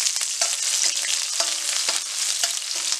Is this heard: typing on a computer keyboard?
no